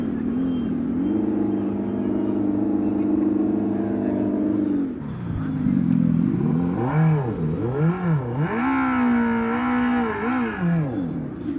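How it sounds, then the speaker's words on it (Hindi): A Revolt RV400 electric motorcycle revs up, its motor whine holding steady, then swooping repeatedly up and down in pitch as the throttle is worked, loud and close with no talking. "ये मैंने रेस दी और ये बाइक स्टार्ट हो गई"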